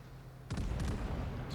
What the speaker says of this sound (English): So fire my main guns,